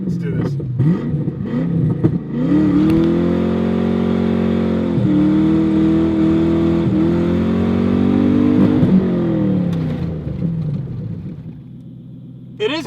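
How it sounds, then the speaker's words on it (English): A Ford Mustang's American V8 accelerates hard, its loud, close engine note rising and dropping through several gear pulls in a sustained rumbling roar that fades away at the end. "I'm gonna show him what an American V8 can really do"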